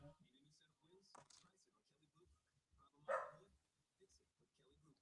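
A dog barks in a home setting during a live broadcast, one short loud bark standing out among quieter yips and whimpers, with a person talking throughout.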